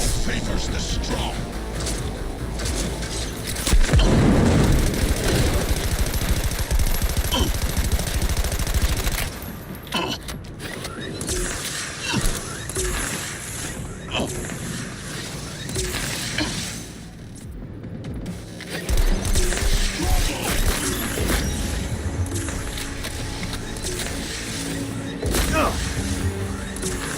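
Rockets and heavy weapons fire over and over in a Cyberpunk 2077 firefight, a dense, loud barrage of booms and bursts that runs throughout, with talk over the combat.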